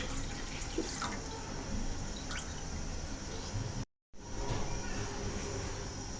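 Water is poured into a cooking pot, about three to four glasses, to boil chicken for chicken corn soup; soft splashing and trickling with drips runs steadily, broken by a brief gap.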